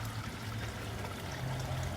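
Water from a small garden pond waterfall trickles and splashes in winter, a steady, soft rushing flow that continues evenly, faint and unbroken with no other sounds.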